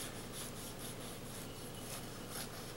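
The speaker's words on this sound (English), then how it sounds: "You hear that? That's a sound of flakiness." A knife cuts through the flaky crust of a homemade apple pie, producing close, crisp, crackly scraping in quick rhythmic bursts, with no talking.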